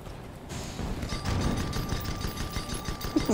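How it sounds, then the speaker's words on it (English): Airship guns in a video game fire at an enemy ship, a dense rapid rattle of shots and thuds rolling on continuously at moderate loudness, with no speech over it. "Shooting at the one below."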